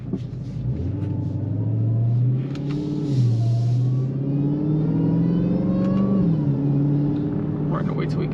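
A 2021 Dodge Charger Hellcat driven in manual mode with paddle shifters, its engine revving up and dropping between gears in a deep rising drone, close and steady, with a voice speaking over it.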